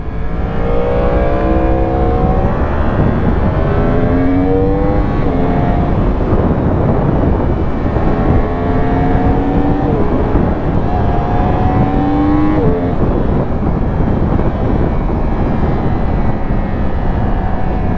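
A small old motorbike engine on the road in the Vosges gives a loud, continuous drone that rises and falls in pitch as it accelerates and shifts, with steady wind rush underneath and no voices.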